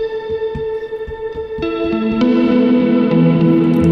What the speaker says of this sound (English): you can play around with the reverb time